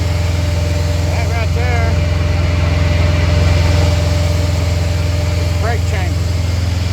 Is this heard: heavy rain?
no